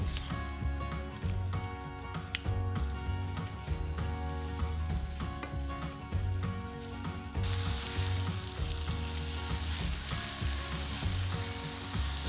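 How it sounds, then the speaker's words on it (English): Ground spices, cayenne, paprika and fenugreek, frying in a pan with tamarind paste for chicken madras, giving a steady close sizzle with stirring scrapes throughout and a brighter hiss in the last few seconds. "Add that all to the pan and cook for 1 minute, stirring constantly."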